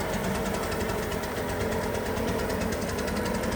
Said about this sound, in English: We're using the blower to move the excess sealer around